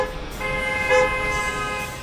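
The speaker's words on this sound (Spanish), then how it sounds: "Uno de los factores de más incidencia en la capital es el sonido de motores y claxon de los más de 780 mil vehículos." Car horns toot over the steady rumble of engines in busy city traffic in a capital, with several overlapping honks and one louder blast near the middle.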